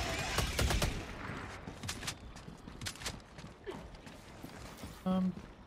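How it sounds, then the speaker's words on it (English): A sentry turret in the shooter game Helldivers 2 deploys with mechanical clanks, then fires bursts of gunshots that thin into scattered clicks and rattles, fairly close and mostly without talk. "Sentry is going to deal with those"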